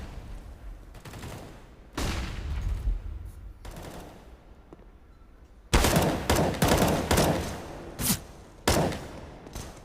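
Desert Eagle pistol shots crack out in a Counter-Strike match on the Train map, loud single reports in irregular bursts, heavier after a quieter stretch, mixed with other gunfire and game noise.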